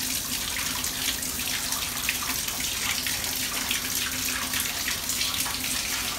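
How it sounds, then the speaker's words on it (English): Bath tap running steadily to fill a bathtub for a bath bomb, a constant hissing water flow close by with a faint hum, no talking. "I'm going to start the water so I can start filling it."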